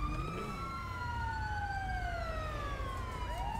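A wailing ambulance siren in a video game sweeps up and down continuously, loud and close, over a low rumbling background.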